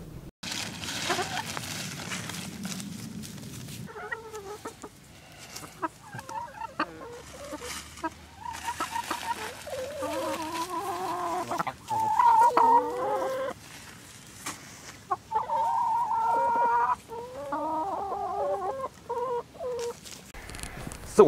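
Farm chickens cluck steadily at feeding time, a busy flock nearby with repeated short clucks and murmurs over a quiet outdoor background, while a person talks at intervals.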